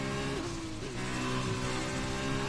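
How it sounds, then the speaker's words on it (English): A racing car engine from a racing video game drones steadily during one-shot qualifying at Abu Dhabi, a loud, slightly echoey buzz with rising and falling pitch as the revs change, continuous with no talking. "my drive noise of the car is a little bit loud or echoey"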